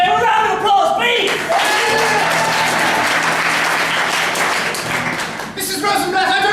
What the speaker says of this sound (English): may a round of applause, please!